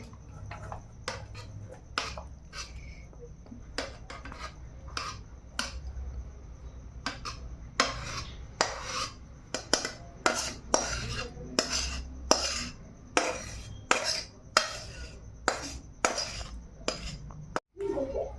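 Thick tadka dal is transferred from a metal pot into a bowl, with a steady series of close, sharp clinks and scrapes of a utensil against the pot, no voices.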